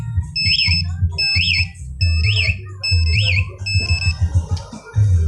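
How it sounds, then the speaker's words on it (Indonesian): A Honda CBR150 motorcycle's smart-key alarm activates with four rising-and-falling electronic chirps in a regular rhythm over a low engine hum, then shifts into a rougher warbling tone. "pencet box tutup 1 kali maka alarm aktif"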